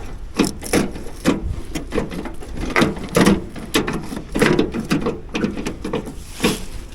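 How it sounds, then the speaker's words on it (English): An old Ford tractor that has sat unused for years is worked into gear, giving a series of repeated close wooden-sounding clunks and knocks from the shift mechanism, with no talking. "Going into gear okay."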